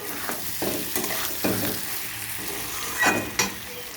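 Kohlrabi curry with spices being stir-fried in a pan, with steady sizzling and repeated scraping strokes of a spatula close up, no voices.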